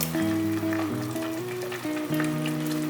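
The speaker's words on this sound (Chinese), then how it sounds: "把搅拌均匀的莲藕粉水倒入" A starch slurry of lotus root powder and water poured into a hot pan, sizzling steadily and close with a low hum behind, no talking.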